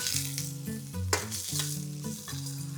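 Three finely chopped onions frying with fenugreek, fennel, bay leaf and star anise for a vegetable kurma, a steady close sizzle with stirring scrapes, under a faint tonal hum.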